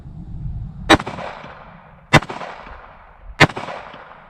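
Three sharp pistol shots from a Sig Sauer P365 chambered in .380 firing hollow-point rounds at a target plate, spaced about a second apart, loud and close, each trailing a short outdoor echo.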